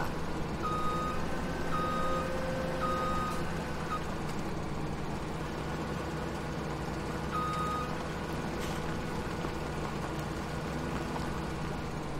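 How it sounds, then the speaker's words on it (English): A truck in Farming Simulator 17 reverses with steady, repeating backup beeps over a constant low engine drone. "Here comes my truck again."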